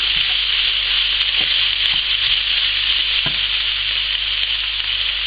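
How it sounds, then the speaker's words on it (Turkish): Steady, loud sizzling of food frying in hot oil for a Turkish eggplant dish, a continuous crackling hiss with occasional pops and a stirring scrape. "Yağımı da kızdırdım. Şimdi hemen kızartacağım."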